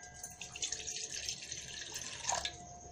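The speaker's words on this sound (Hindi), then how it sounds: "अब मैं उसमें डालूँगी थोड़ा सा पानी" Water pours steadily into a steel cooking pot, a close, continuous splashing hiss that runs unbroken for a few seconds with no talking.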